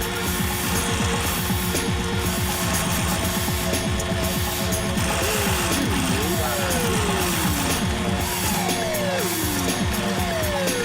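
A router with a cone bit chamfers a W2 steel neck knife blank, a continuous loud whining machine drone with rising tonal sweeps and grinding texture throughout.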